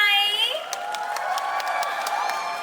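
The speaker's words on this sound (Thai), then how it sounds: "ขอเสียงปรบมือดังๆให้กับงานหน่อยได้ไหม" A crowd at a Santa's Toy Store holiday event in the Mega Bangna shopping mall claps and cheers in a sustained wash, while an amplified voice rings out loudly over the opening moment.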